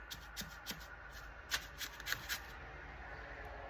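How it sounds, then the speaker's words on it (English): A brush taps and dabs paper down into the bends of a wooden fireplace mantle, a quiet series of soft papery pats and rustles close by, irregular then fading, with no talking. "I'm just using my brush to kind of tap it in there."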